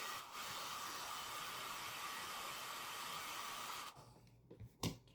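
A handheld dryer blows on freshly painted eye details of a Christmas craft, a steady airy hiss lasting several seconds before cutting off, leaving quiet handling clicks.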